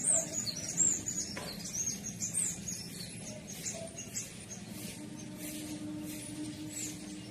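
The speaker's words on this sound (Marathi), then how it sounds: "चिमण्या येतात पक्षी येतात" Sparrows and other small birds chirp and tweet in quick, scattered bursts on a morning, fairly faint against a quiet outdoor background.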